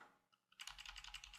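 Someone types JavaScript code on a computer keyboard, producing a quiet, rapid run of close key clicks after a brief near-silent pause.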